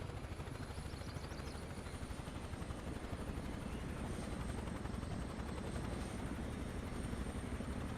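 Huey helicopter in army livery flying in Microsoft Flight Simulator 2024, its steady rotor chop and turbine hum droning loud and unbroken throughout with no voices.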